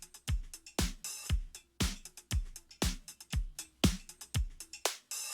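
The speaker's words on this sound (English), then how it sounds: "And it is sidechain, so the actual break should sound like this." A sidechained drum break sample loops steadily, with punchy kicks, cracking snares and ticking hats, each hit ducking the sound so the pattern pumps rhythmically, close and alone with nothing else over it.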